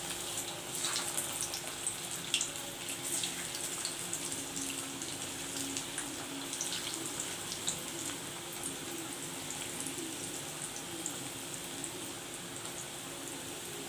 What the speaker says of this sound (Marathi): त्याच्यात आपण वडी टाकून घेऊया आणि मस्त मीडियम फ्लेमवर क्रिस्पी अशी तळून घ्यायची आपल्याला